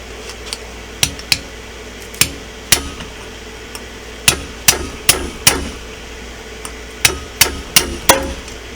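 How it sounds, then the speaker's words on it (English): A socket smacks a valve part on a Chinese CT-125 ATV, making a string of sharp metallic hits at an irregular pace, some in quick pairs and bursts, each ringing briefly against a quiet background. "Sometimes you can take a socket and smack them, and they'll hop up out of there."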